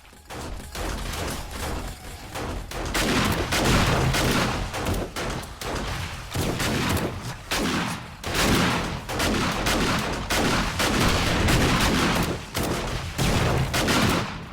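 Frag rockets fire and explode in rapid succession in the 7 Days to Die video game, a dense, loud barrage of overlapping blasts and crackling bursts that continues without pause across the whole stretch.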